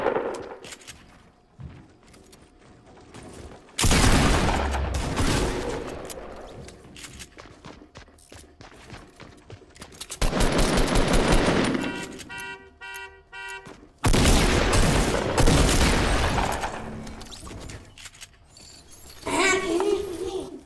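Gunfire in a video game match plays in loud, dense bursts separated by quieter stretches, with rapid repeated shots, while players talk over the action.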